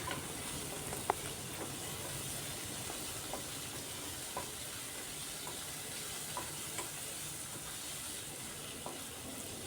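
Tomato cooks with salt in a pan, a steady soft frying hiss under occasional light ticks and scrapes of stirring, close but quiet, with no voices.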